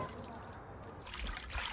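Water runs slowly from a low-pressure standpipe into a bucket in drought-hit Cape Town, a soft steady trickle and splash that grows slightly fuller toward the end, close and continuous with no talking.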